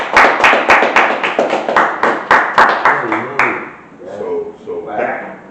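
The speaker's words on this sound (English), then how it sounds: "Clap it up for that kid" Several people clap in a loose, uneven burst on a live show, sharp individual claps for a few seconds, then a voice talks as the clapping fades.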